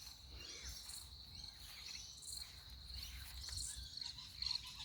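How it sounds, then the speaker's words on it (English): Steady high-pitched cricket chirping fills the background, a dense continuous trill with soft low rumble underneath. "there's a lot of noise just there from the crickets"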